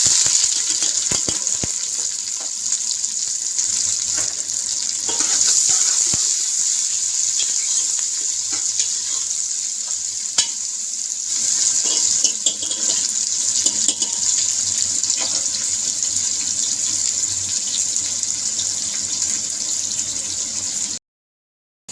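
Water runs steadily into a cooker pot for boiling eggs, a continuous hissing splash lasting about twenty seconds before cutting off abruptly, with faint kitchen clatter.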